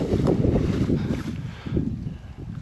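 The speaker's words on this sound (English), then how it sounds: "As you can hear, it's a bit windy today." Gusty wind sweeps across a wheat field on a farm, a loud, rumbling buffet of wind noise hitting the microphone with no speech over it.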